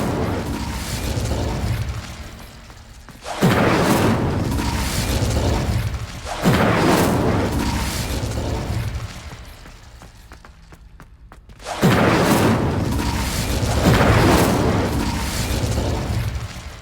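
Incendio fire spell cast repeatedly in Hogwarts Legacy, each cast a loud booming whoosh of flame that roars for a few seconds before fading, in three to four bursts with short lulls between.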